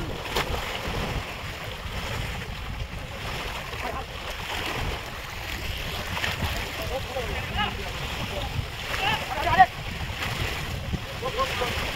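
Steady wash of sea water and wind outdoors with a low rumbling churn as a large fishing boat is pulled by ropes into the sea, voices talking faintly underneath, and a brief louder splash near the end.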